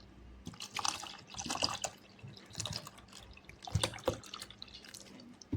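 Water is poured into a vessel while making bel sharbat, heard as close, faint splashing and trickling in a few uneven bursts in a quiet kitchen.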